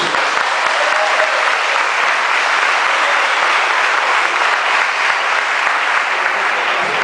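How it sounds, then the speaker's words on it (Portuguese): A church congregation applauds in a thick, sustained burst of clapping that holds loud and even across the whole stretch, with no talk over it. "Um aplauso ao Senhor Jesus"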